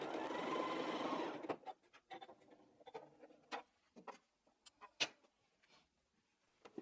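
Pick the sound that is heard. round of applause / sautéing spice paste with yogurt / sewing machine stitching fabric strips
sewing machine stitching fabric strips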